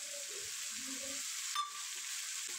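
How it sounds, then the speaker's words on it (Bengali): Black cumin seeds and ground spice paste fry in hot oil with a steady, close sizzle, a brief sharp crackle midway, and soft clinks of stirring scattered underneath. "ওই তেলেই ফোড়নে দিয়ে দিয়েছি কালো জিরে, তারপর মশলা বাটাটা।"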